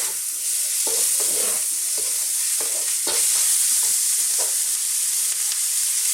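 Garlic, onions and frozen garden peas fry in a pan for a bacon and pea cream pasta sauce, a steady bright sizzle with a few stirring scrapes, no voices.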